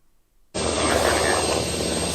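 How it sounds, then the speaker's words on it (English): A helicopter over a field suddenly rises to a loud, steady roar with broadband rotor and engine noise, close and continuous after a quiet start. "That's the heli."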